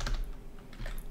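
A few computer keyboard key presses clack close and clear, short separated taps of keys on a desk keyboard with no voices around them.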